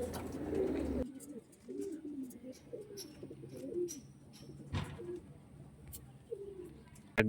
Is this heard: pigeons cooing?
yes